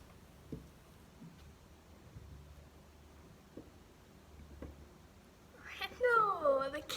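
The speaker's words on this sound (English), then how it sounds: "the cat's getting carried" A cat being carried in a home kitchen lets out several loud, drawn-out meows near the end, after quiet shuffling and a few faint knocks.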